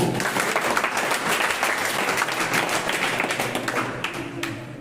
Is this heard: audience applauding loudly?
yes